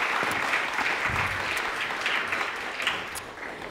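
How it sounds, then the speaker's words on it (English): Sustained applause from an event audience after a talk by a speaker named Charlotte, steady clapping throughout without much fading. "let's give a warm round of applause then to Charlotte"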